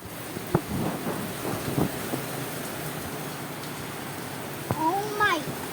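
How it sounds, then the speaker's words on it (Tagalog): Heavy rain falls in a steady, dense hiss through a rainy day, with a few voices talking and exclaiming over it; no distinct thunder roll stands out. "There's a strong rain!"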